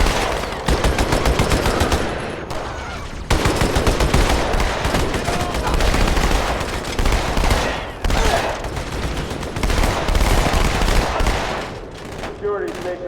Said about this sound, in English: Let me use the turret.